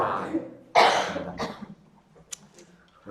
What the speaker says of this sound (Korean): 마치 오케스트라 연주하는 것처럼 다양하게 기침 소리가 나는데요